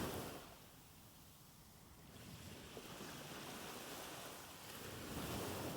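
Soothing ocean waves wash in a slow, soft rise and fall of broad surf noise, distant and gentle, with a faint windy hiss and no voices.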